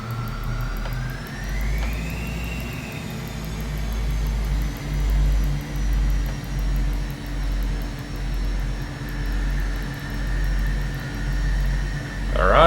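A Learjet 35A's jet engines drone steadily on a stormy landing approach into Wellington in a flight simulator, a continuous low roar with a faint rising tone near the start and a brief louder swell at the very end.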